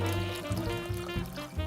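Water pours into a container for a pickled jalapeño brine, a steady resonant stream with a gently pulsing rhythm, close and moderately quiet.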